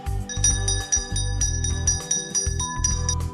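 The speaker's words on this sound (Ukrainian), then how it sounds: "це шкільний дзвоник, який сповіщає початок шкільного року" An electric school bell rings loudly in several long bursts with brief pauses between them, close and clear, with no voices, marking the start of the school year.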